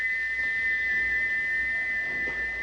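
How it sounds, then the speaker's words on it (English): A cartoon steam engine's stuck whistle shrieks continuously as one steady, piercing high tone, loud and unbroken over a rough rumbling background, with no voices. "he wouldn't stop whistling until two fitters climbed up and knocked his whistle valve in place"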